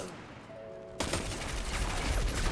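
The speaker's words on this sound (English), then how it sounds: "Oh my god, I'm so distracted by this guy shooting me in the back." Another player's gun opens up in Destiny 2 after a brief quiet moment, then keeps firing in a dense, rapid stream of shots that continues to the end.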